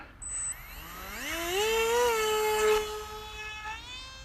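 The electric motor of a Sonic Modell Skyhunter RC plane whines up at launch, its pitch climbing steadily into a loud, smooth tone that holds and then eases slightly as the plane pulls away, with no talk over it.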